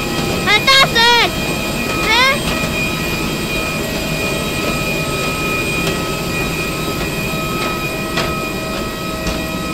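Steady, loud airplane engine roar fills the cabin on a flight from Kota Kinabalu to Kuala Lumpur, with brief voices near the start over the constant drone.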